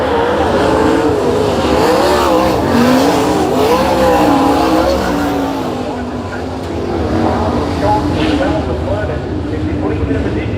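A sprint car engine roars and revs at a live dirt-track race night, its pitch rising and falling loudly across the stretch while an announcer talks over it.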